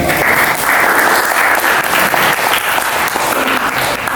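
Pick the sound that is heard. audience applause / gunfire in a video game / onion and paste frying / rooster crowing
audience applause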